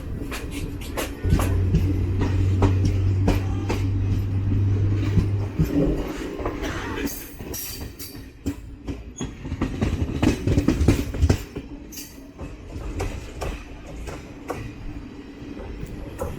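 The 12084 Coimbatore to Mayiladuthurai Jan Shatabdi Express runs along the track, heard from inside a coach as a steady rumble with a low hum early on and quick rhythmic clicks and clatters of the wheels over rail joints.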